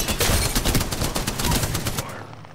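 Dense, continuous video game gunfire in a shield-recharging shooter round, with rapid overlapping bursts sustained for about two seconds before cutting off.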